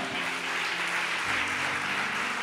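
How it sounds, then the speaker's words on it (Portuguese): A church congregation claps in a continuous wash of applause during a worship service, with a low sustained tone from instruments or an organ underneath. "Pode aplaudir o Senhor."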